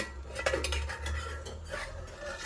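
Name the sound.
lid lifted off cooking pot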